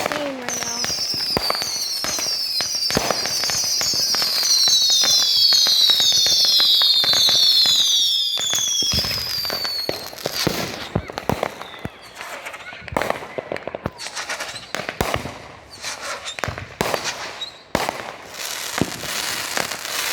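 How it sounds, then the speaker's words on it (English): Fourth of July fireworks go off nearby as whistling rockets rise in a cluster, then dense crackling and sharp bangs follow in irregular bursts. Voices can be heard now and then between the explosions. "Y'all gotta chill out with the fireworks."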